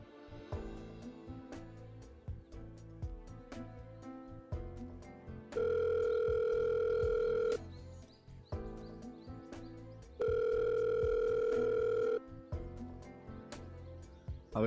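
An unanswered outgoing phone call rings out as two long electronic ringback tones about two seconds each, separated by quieter background music, fairly loud and steady.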